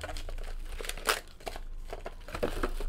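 A Panini Status basketball card box being opened, with crisp crinkling and tearing of packaging in short bursts, close and fairly quiet.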